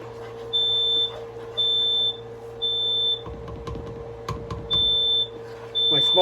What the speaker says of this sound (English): my smoke alarm doesn't like it.